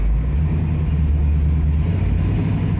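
A 1981 Pontiac Trans Am engine rumbles deep and loud from close by, accelerating with a steady heavy low drone for a few seconds.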